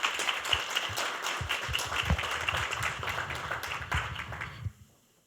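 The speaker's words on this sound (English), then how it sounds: "Let's give a round of applause for Dakota County." An audience applauds steadily during a business recognition event, a dense, fairly close wash of clapping that holds for about four and a half seconds before cutting off, with no voices over it.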